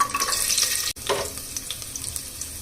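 Dried red chilies and garlic sizzle in a little hot oil, a steady broadband frying hiss broken by a brief gap, then resuming with light stirring scrapes.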